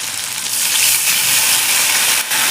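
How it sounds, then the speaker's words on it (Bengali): Mustard paste fries in hot oil in a pan, a loud, close, continuous sizzle that swells after a moment and briefly dips near the end, with no talking. "সর্ষে বাটাটা একটু কষিয়ে নেবো এই তেলের মধ্যে"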